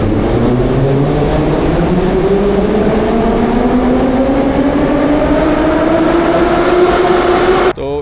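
A metro train runs through a station in Russia, a loud steady roar with rising motor whine as it speeds up, ending in a sharp clunk near the end.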